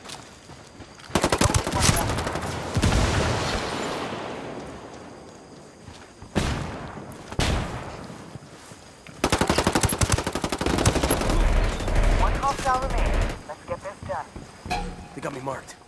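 Bursts of automatic gunfire in the video game Tom Clancy's Ghost Recon Wildlands, loud rapid machine-gun volleys in several long stretches with brief pauses between them, plus voices talking among the shots.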